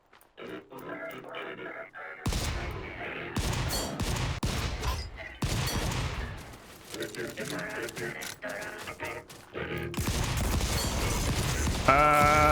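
Enemy shotgun fire in the video game Volcanoids, loud broadband blasts and bursts in irregular clusters over a running game soundtrack and mechanical noise, with a voice talking along.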